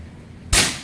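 A single sharp, loud PCP air rifle shot at 1000 PSI cracks after a brief quiet pause, with a short fading tail.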